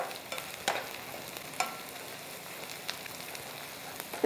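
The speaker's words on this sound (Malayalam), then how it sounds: "അതുകൊണ്ട് ഇത് ഇച്ചിരി ഒന്ന് മൂക്കണം." Tomato puree masala for cashew paneer masala frying in a pan gives a soft continuous sizzle, with a spoon stirring and occasional sharp taps against the pan, close and moderately quiet, without talking.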